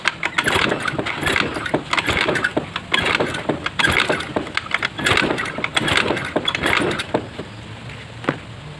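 A Honda Scoopy FI scooter with a no-start fault has its ignition switched on and is cranked, giving a busy close run of mechanical clattering and ticking that eases toward the end.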